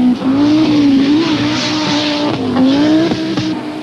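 Rally cars, including Audi Quattros and a supercharged Lancia, race flat out on a Finnish stage of the 1984 Thousand Lakes Rally, with loud engines holding a sustained roar that rises and dips through gear changes alongside gravel and tyre noise.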